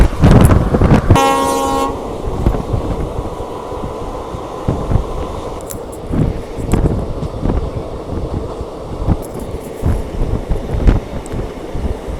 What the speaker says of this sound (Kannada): ಈಗ ಕ್ರಾಸಿಂಗ್ ಆಗ್ತಿರೋ ಟ್ರೈನ್ ತಾಳಗುಪ್ಪದಿಂದ KSR ಬೆಂಗಳೂರು ಸಿಟಿ ಜಂಕ್ಷನ್ಗೆ ಹೋಗೋ KSR ಬೆಂಗಳೂರು ಇಂಟರ್ಸಿಟಿ ಎಕ್ಸ್ಪ್ರೆಸ್